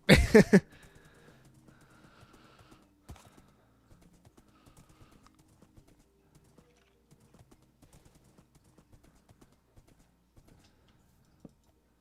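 Horse hooves clip-clopping in the video game Minecraft: a loud burst of steps at the start, then sparse, quieter hoof clops scattered at an uneven pace with no talk.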